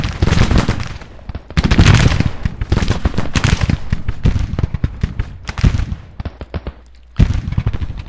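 Loud, dense volleys of musket and cannon fire rattle and boom in overlapping bursts across a Battle of Shiloh battlefield in the game GTCW, with brief lulls between salvos.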